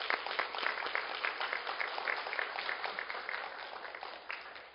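A church congregation applauds teachers, a dense, steady crowd clapping that holds through most of the stretch and thins slightly toward the end.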